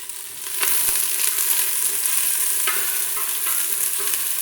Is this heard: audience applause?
no